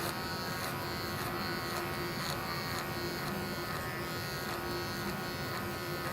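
Wahl Magic Clip electric hair clippers with a number 2 guard buzz steadily and close up while bulk is cut away for a fade, a continuous whine with slight rhythmic dips as passes are made.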